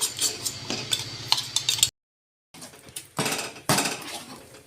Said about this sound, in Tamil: இப்போ நல்லா இந்த மாதிரி கிண்டி விட்டுக்கிட்டே இருக்கணும்.